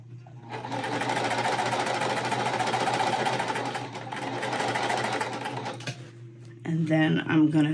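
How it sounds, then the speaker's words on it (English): A sewing machine stitches half-square quilt triangles together in a steady, fast, continuous run of about six seconds, then stops as a voice briefly speaks. "I'm going to sew both of these half square triangles together now"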